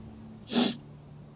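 One short, sharp sneeze bursts out near the microphone, a quick hissing blast over a quiet background hum.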